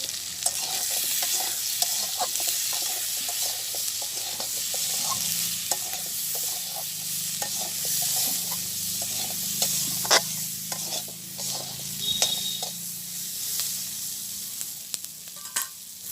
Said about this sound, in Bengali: এখন সব মশলা টশলা দিয়ে, মশলা বলতে পেঁয়াজ রসুন কাঁচামরিচ জিরা এগুলো দিয়ে একসাথে ভাজি করে নিলাম